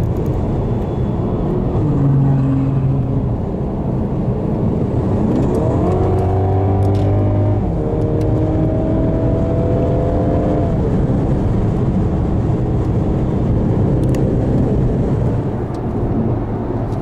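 Ferrari supercars, including an STO, pass on a road during the Gumball 3000 rally from Venice to Budapest; engines rise and fall in pitch as they accelerate by, loud and close over constant road and cabin noise.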